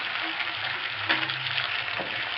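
Potatoes fry quietly in a pan, a soft continuous sizzle with faint crackles and an occasional stir, alone without talk.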